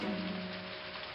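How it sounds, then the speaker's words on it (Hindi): Heavy rain falling on a village, a dense steady hiss of downpour with a faint low hum beneath, brief and unbroken. "2 दिन से गांव में भारी बारिश हो रही है।"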